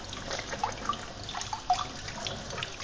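Kitchen tap water runs into a sink while rusty PS2 metal parts are washed, a steady soft trickle with a few faint clinks and drips spread through it.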